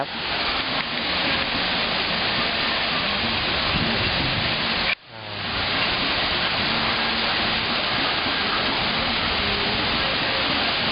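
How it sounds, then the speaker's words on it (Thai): Tharalak waterfall in Thailand roars with a dense, steady rush of falling water, loud and close, broken by one brief dropout midway before the flow resumes unchanged. "ที่เห็นอยู่นี่ก็คือน้ำตกทาราลักษ์นะครับผมน้ำตกระหว่างทางนะครับ"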